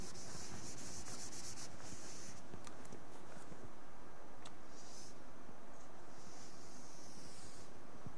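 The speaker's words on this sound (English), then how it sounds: "I will rub off this." Chalk writing being rubbed off a board during an engineering lecture, a steady loud scrubbing swish that continues for several seconds with short strokes, close to the microphone and with no voice over it.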